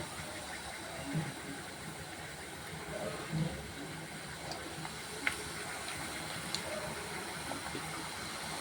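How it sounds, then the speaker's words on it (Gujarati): Wheat flour puris frying in hot oil over a low flame, a steady soft hiss and fizz with faint crackles, continuous and fairly quiet throughout. "ધીમી આંચ ઉપર જ આપણે તળવાની છે પૂરી।"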